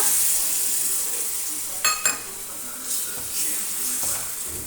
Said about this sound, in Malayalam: ഇനി ഇതിലേക്ക് നമ്മൾ എടുത്ത് വെച്ചിരിക്കുന്ന പുളിവെള്ളം ചേർത്ത് കൊടുക്കുക